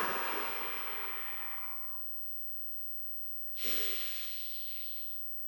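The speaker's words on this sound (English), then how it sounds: "normally you don't have to breathe out loud, but I'm making it so you can hear it in the mic" A person exhales audibly for a Qigong breathing exercise: one long, airy breath out fading over two seconds, a quiet pause, then another breath, close to the microphone with no speech.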